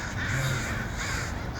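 A crow caws twice in quick succession, fairly loud and close, over a steady background hum with no talking.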